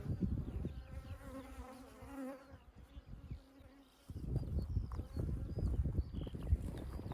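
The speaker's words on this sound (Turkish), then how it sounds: "Bakalım Ersen'in bugün kafadan kaç arı sokmuş?" Honey bees swarm and buzz around hives at an apiary beside a caravan, a dense steady drone close by that fills the whole clip, with some rustling and handling noise through the second half.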